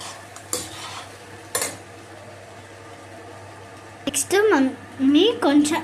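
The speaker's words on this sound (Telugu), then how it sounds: "ఇప్పుడు ఫైనల్గా మురమురాలు వేసేసి అన్నీ వేసేసుకొని ఎలా కలుపుతుందో చూడండి" A spoon scrapes and stirs puffed rice uggani in a pan, with a few sharp clicks and a soft rustle, then someone talks over the stirring near the end.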